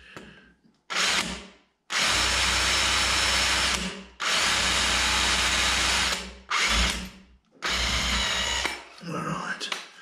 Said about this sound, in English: I'm drilling here to put a small screw in to hold it in place.